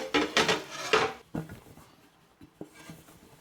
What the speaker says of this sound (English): Bring this over here and give it a quick wash.